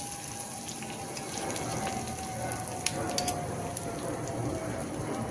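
Sambar ingredients with curry leaves sizzle in a hot pan, a steady close crackling hiss like light rain with occasional sharper pops, continuous and even throughout.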